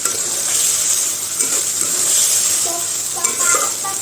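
A pan of curry sizzles steadily while it is stirred and sautéed, with a continuous frying hiss and occasional soft scraping of the spoon, close and fairly loud, with no voices.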